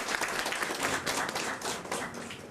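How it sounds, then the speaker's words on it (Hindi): A crowd at a school girl-child day ceremony applauds a girl student from a government senior secondary school, steady dense clapping throughout at moderate volume. "जोरदार तालियां इस बच्ची के लिए।"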